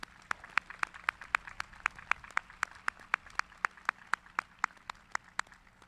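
Sparse, regular claps ring out at a graduation ceremony for NC A&T's 2021 class, roughly four per second and fairly close, with no voices.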